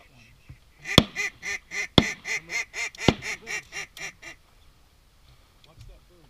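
A rapid series of about a dozen loud, close quacks during a duck hunt on Sauvie Island, Oregon, in November, most likely from a duck call, with a few sharp knocks among them before the sound fades.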